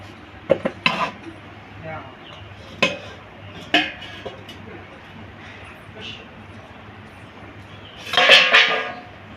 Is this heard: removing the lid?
yes